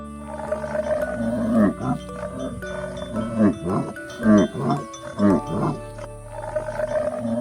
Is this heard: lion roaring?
yes